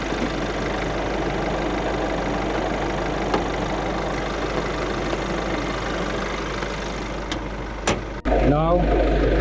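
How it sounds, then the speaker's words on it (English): A vehicle engine idles steadily while its winch is in use, a constant close hum with a few faint clicks. Near the end a sharp knock is followed by a louder, rougher rush of sound. "So the engine has to be running always when you use your winch."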